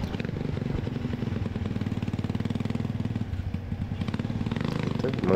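A motorcycle engine putters nearby on a Manila street with a rapid, regular thumping rhythm, holding steady before revving slightly at the end.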